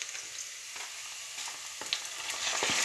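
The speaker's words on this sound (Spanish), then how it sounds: "Así que vamos a echar el pollo antes" Chicken pieces drop into a hot paella pan and fry with a steady, close sizzle that crackles louder toward the end, with no voices.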